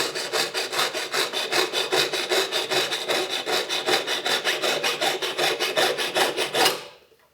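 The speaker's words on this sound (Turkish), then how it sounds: "Kolları birbirine iterek aynı anda bir tur kesim yapıyorum." Rapid rhythmic back-and-forth rasping of a fine hand saw cutting a silver ring, dozens of even strokes, close and steady, then it stops.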